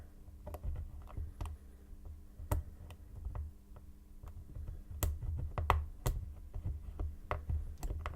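Small metallic clicks and ticks come from single pin picking on an Abus 72/40 padlock, irregular and close, with scattered sharper snaps as pins give feedback or set.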